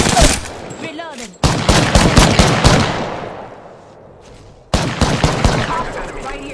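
Gunfire in the battle-royale shooter Apex Legends: loud rapid bursts of automatic fire in two main volleys, with a fading tail between them. Game voice callouts are heard in between.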